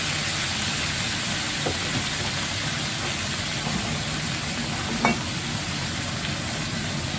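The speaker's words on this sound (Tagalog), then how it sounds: "ilalagay ko dito yung courgette, dito ko na rin igigisa" Courgette sautéing in a pan of oil at a camper van cooking spot, a steady bright sizzle running throughout with a couple of soft stirring clicks.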